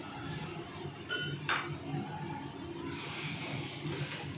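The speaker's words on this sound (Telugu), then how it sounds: "స్టవ్ వెలిగించి స్టవ్ మీద పెట్టుకుంటున్నానండి గిన్నె" A metal cooking pot is set down on a gas stove, giving two quick, bright clinks close together over a steady background hiss and room noise.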